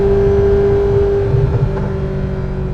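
A Ferrari F40 LM engine roars steadily at high revs, loud and close, with a sustained tone that eases slightly toward the end.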